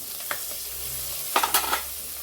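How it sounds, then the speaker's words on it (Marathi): Green chilli and coriander sizzle in a hot pan with oil, with a few soft stirring scrapes and taps over a steady low frying hiss. "ती सुद्धा परतून घेऊया"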